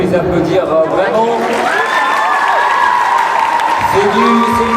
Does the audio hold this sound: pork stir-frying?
no